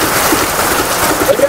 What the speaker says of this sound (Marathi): तर बघा कसा पाऊस पडतोय बाहेर.